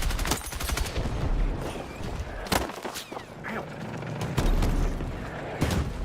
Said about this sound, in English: I get the feeling those are not friendly mortars.